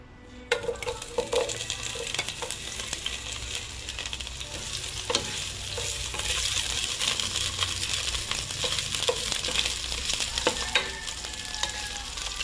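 Onion frying in hot oil in a pan for Filipino pork pochero, giving a loud, dense, continuous close-up sizzle that holds steady throughout, with occasional light clinks and scrapes of stirring.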